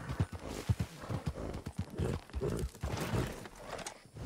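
Horse hooves clip-clopping in Red Dead Redemption 2, a close, uneven run of hoof strikes with a few louder thuds, steady throughout.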